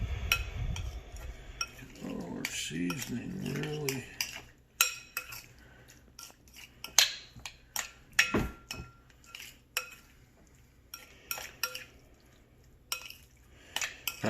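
Shrimp and asparagus stirred in a pan for blackened shrimp, giving scattered clinks and scrapes of a utensil against the pan with light sizzling. Brief speech comes early, and the clinks continue at a moderate level.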